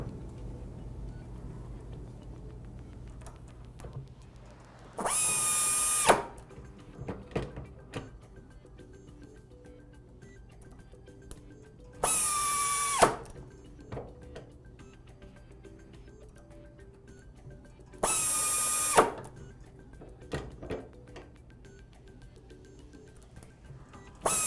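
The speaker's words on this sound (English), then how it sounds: "the O-ring and gearbox can be assembled onto the flange with 4 more screws" A power screwdriver drives the screws that fasten a gearbox and O-ring onto a motor's mounting flange, with three separate short whirring bursts spaced several seconds apart and quiet handling noises between them.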